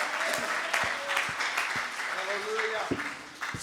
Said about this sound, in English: Clap your hands unto the Lord if you want to commit.